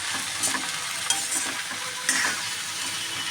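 Okra (bhindi) sizzles steadily in a pan, with a few sharp scrapes and clinks of a stirring spoon against the metal.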